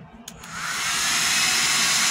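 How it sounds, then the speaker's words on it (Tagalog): A big hair dryer salvaged from a dumpster switches on after a couple of faint clicks, its whooshing fan noise swelling within a second into a loud, steady rushing roar that continues alone. "Hair dryer."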